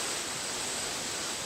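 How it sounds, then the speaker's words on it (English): Strong wind blows outdoors on a farm, a loud steady rushing roar that buffets the microphone and fills the whole short stretch without any voices. "It is very windy out here"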